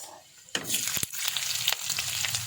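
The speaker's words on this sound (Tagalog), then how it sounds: "Igisahin na natin yung bawang. Tapos, isusunod ko na yung sibuyas." Garlic and onion sauté in a pan, the sizzle bursting in loudly after a quiet start, with a couple of sharp clatters from stirring and a steady fry continuing close by.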